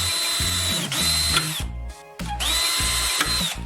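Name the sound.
drilling two holes in metal drywall profile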